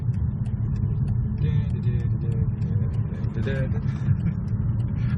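Low engine rumble and road drone from inside a broken-down BMW EP3 being towed at night with no brakes or power steering, steady and close, with brief faint sounds above it.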